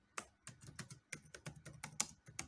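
Quick bursts of keystrokes on a computer keyboard while data is entered into SPSS, an irregular run of close, crisp clicks with brief pauses between words.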